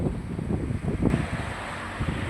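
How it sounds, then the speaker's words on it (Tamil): A strong southwest monsoon wind blows outdoors beside a roadside patch of medicinal plants, a steady, loud roar of gusting wind against the microphone with no voices. "அதுபோல் காற்று தென்மேற்கு பருவக்காற்று நல்லா வீசுது இங்கே"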